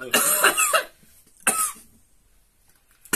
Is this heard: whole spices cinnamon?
no